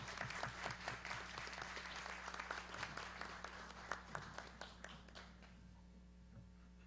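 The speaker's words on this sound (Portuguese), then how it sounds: "Salva de palmas." An audience at a formal ceremony marking Portugal Day in a São Paulo legislative hall gives a round of applause: crisp, dense clapping that holds steady, then thins and fades out near the end.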